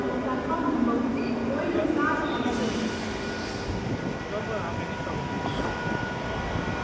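A Mumbai local train pulls away from platform 6 at VT station toward the car shed, a low rumbling roll under a busy station crowd and a public-address voice speaking.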